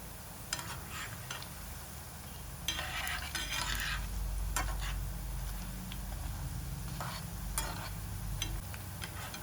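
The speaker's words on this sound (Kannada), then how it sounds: "ಚಕ್ಲಿ ಒಳಗೆ ಹಾಕಿ ಡೀಪ್ ಫ್ರೈ ಮಾಡ್ಕೊಳ್ತಾ ಇದ್ದೀನಿ" Chakli deep-fry in hot oil as a continuous, fine bubbling sizzle, with scattered crackles and pops rising over the steady frying hiss.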